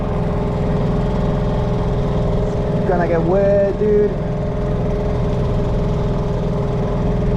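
A cheap Hangkai 6HP two-stroke outboard motor runs steadily on a Saturn MC330 inflatable catamaran, a loud continuous droning hum throughout, with a person briefly talking over it.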